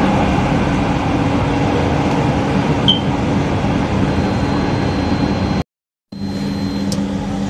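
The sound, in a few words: Jabodebek LRT train arriving at Cawang station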